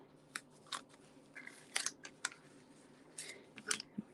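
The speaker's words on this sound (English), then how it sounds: "Just cut that off." Scissors snip through card stock during papercraft card making, several short crisp cuts scattered irregularly over a quiet background, close and clear.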